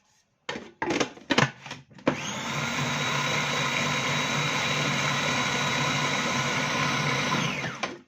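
After a few knocks and clatters, a kitchen blender starts up and runs as a loud, steady motor whir for several seconds before stopping, with no talking.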